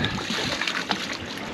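Water splashes and sloshes steadily as a conch shell is rinsed outdoors on a boat in the Ragged Islands, a continuous close wet splatter with small trickles and no talk.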